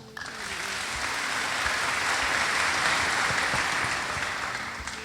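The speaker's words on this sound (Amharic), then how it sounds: "አጨብጭቡለት።" Sustained applause from a crowd, steady and fairly loud, swelling in the middle and tapering slightly at the end.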